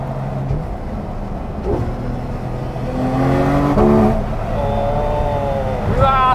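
A Porsche 911 GT3 RS (Type 991) revs hard under acceleration, its engine note climbing in pitch and then dropping sharply with each quick PDK gear shift, loud and close, with some talk inside the car.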